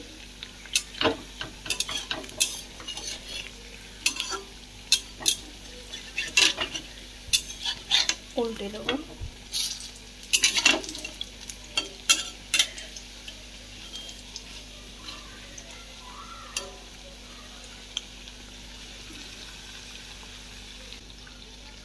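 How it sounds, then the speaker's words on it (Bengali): Potato pakoras fry in oil in a kadai with a continuous crackling sizzle, broken by scattered sharp clicks and clatters of a utensil; a voice speaks briefly. "চড়বড় চড়বড় করে তেলে এখন ভাজা হচ্ছে।"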